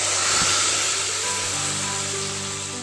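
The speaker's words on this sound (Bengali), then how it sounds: "হিং সমেত ফোড়নটা একটু ভেজে নিয়ে এবার আমি ডালের মধ্যে ফোড়নটা ঢেলে দিলাম।" Hot tempering with asafoetida poured into lentil dal hisses loudly at first, then the sizzle settles into a steady, fading crackle with no voices.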